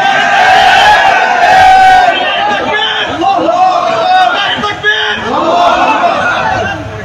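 Massed voices of a crowd at an Islamic religious gathering (mahfil) in Satkania, Bangladesh, shouting takbir in unison: a loud, dense roar of many people that swells and surges throughout, with individual shouts rising above it.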